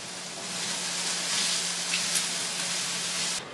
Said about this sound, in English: 3 to 5 minutes of cooking the onions before adding in the peppers